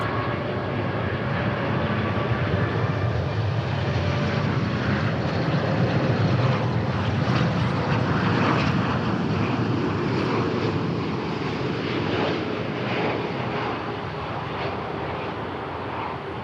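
An airplane arriving from Campinas, Brazil, at Dallas Fort Worth International Airport, its loud, steady jet roar filling the whole stretch and easing only slightly near the end.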